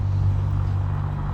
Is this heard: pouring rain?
no